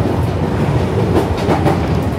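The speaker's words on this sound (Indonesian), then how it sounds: "ini kita naik KRL seri" A JR205 series electric commuter train built in 1988 rumbles steadily along the tracks, with a loud, continuous low roar and faint rhythmic clatter, heard from inside a carriage.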